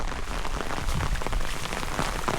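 Steady rain pours onto a hiking trail in flooded Arkansas, a dense, even patter of drops hitting the ground close by, with no voices.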